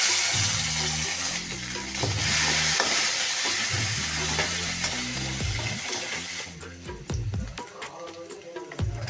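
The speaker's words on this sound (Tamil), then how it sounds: "பூண்டு வதங்கவும் வெங்காயம் சேர்க்குறோம்" Garlic sizzles and fries steadily in a hot pan while cooking tomato soup rasam, a loud continuous crackle with rhythmic stirring clinks throughout, no talk.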